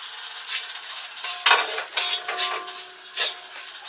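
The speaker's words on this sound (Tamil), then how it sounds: "சேர்த்து இதெல்லாம் நல்லா வதக்கிக்கோங்க" Chilli, coriander and garam masala powders with turmeric sauté in a hot pan for kothu parotta, with a steady sizzle and irregular stirring scrapes of a spoon against the metal.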